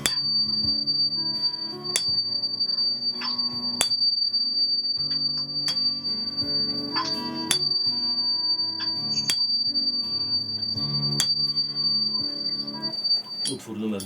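Healing tuning forks pitched at D ring out after repeated strikes, clear bell-like tones sustaining and overlapping at a moderate level, with crisp attacks scattered irregularly through a continuous resonant hum.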